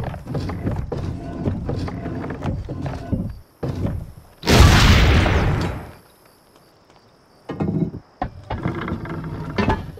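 A ship's cannon fires in the Assassin's Creed Brotherhood video game, one heavy booming blast with a long rumbling tail, set between stretches of game sound and brief voices.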